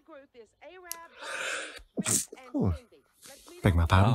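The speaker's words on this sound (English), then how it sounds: "That was a sneeze." A single sharp sneeze bursts out after a gasp, surrounded by brief close-up talking before and after.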